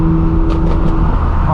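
A straight-piped BMW M4 F82 drones loudly and steadily up close, its open exhaust filling the short stretch with no voices over it.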